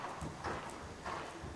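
A horse canters around an arena, its hoofbeats landing in a steady, repeating rhythm at moderate distance, with faint background noise.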